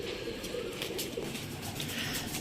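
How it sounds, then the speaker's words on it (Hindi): Soft, low cooing from pigeons over a steady background hum, with occasional faint chirps above. "ये हैं वो कबूतर जो नए आए हैं।"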